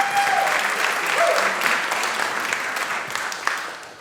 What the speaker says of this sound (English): Please round of applause for Mark.